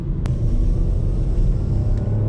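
A Renault Clio 5 with the 1.0 SCe engine while driving, a steady, loud low rumble of engine and road noise with no sharp changes.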